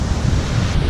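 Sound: ocean waves at Mawun beach, Lombok

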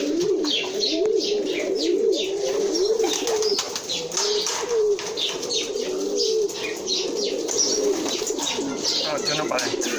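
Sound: pigeon cooing

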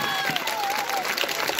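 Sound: audience applause at award ceremony

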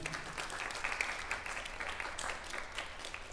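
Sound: audience applause for the horn section

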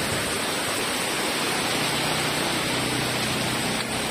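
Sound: rain falling

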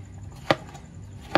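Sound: cutting coconut into pieces

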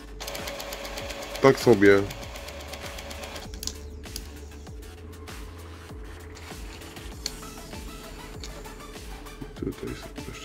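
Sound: Brother DCP-J125 inkjet printer head cleaning

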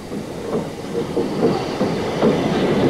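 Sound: Great Eastern Railway E4 steam locomotive at Cambridge

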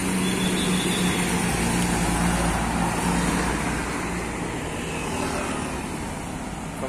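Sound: tour bus passing on the road

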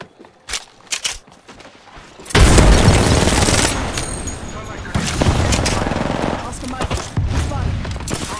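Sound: frag grenade explosion and gunfire in Apex Legends video game

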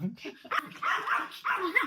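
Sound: Maltipoo dog barking

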